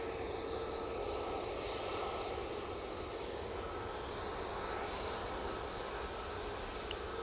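An Etihad airliner approaches Manchester Airport, its jet engines producing a steady, fairly distant whine and rumble that stays even throughout with no talking.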